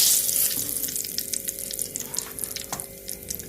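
Whole cumin seeds, dried red chillies and bay leaves crackle and sizzle in hot oil for a chicken curry, a steady close spitting hiss with scattered sharp pops and a faint background hum, no voices.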